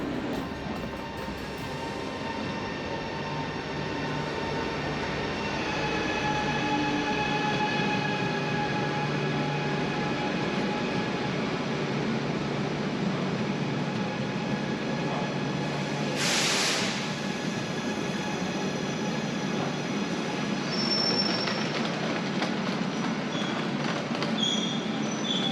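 Train at a station in Istanbul, Turkey, a steady loud rumble of rail cars with a brief hiss partway through and a faint high squeal near the end, with no voices.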